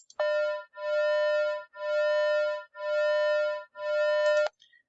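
Two electronic tone generators at 200 Hz and 201 Hz combine into a single tone that swells and fades in a slow, regular beat, giving five distinct pulses about a second apart with no other sound.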